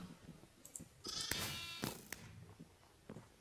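A sheep in Minecraft bleats in a short wavering call, alone and close, with a couple of soft clicks and taps around it.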